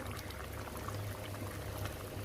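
Soft cooked lentils pour into a sambar pot with a steady thick liquid gurgle and bubbling, close and continuous throughout.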